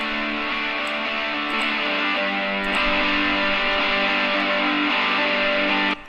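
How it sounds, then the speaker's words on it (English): Two distorted electric guitars play together, strummed chords layered into a full, loud wall of sound with a few sharp pick attacks, holding steady before cutting off abruptly near the end. "and both of these guitars together."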